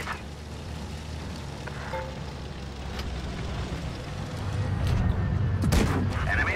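Tank gun in World of Tanks Blitz, a Vickers Light in battle: a steady engine rumble throughout, swelling toward the end, with a single sharp shot cracking out near the close.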